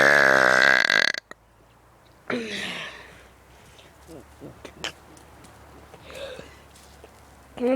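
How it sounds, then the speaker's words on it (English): A kid lets out a long, loud burp that opens the recording, followed after a short pause by a few shorter, quieter burps and breathy noises. "Why are you guys watching a kid burping on the internet?"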